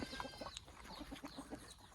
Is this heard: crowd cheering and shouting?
no